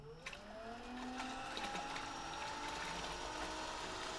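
An e-HME smart pump switches back on, its whine rising in pitch before settling into a steady running hum with faint ticking, close and continuous.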